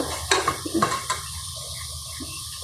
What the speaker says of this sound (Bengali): মাছটা দিলাম আগে মাছটা কষিয়ে দেবো